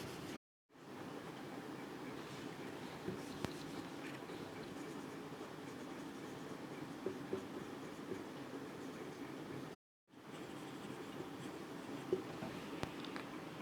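A pen writes out a chemistry definition with faint, continuous scratching on paper, quiet and close, broken by two short silent gaps.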